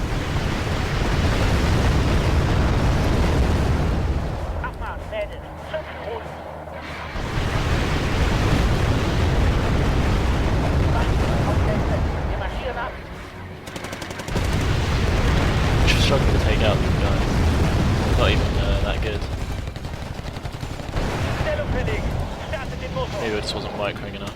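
Artillery barrage explosions in Wargame AirLand Battle, a German deck skirmish, roll as loud, sustained rumbling waves that swell and fade several times, with voices talking underneath.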